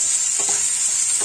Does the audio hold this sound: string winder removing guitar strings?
no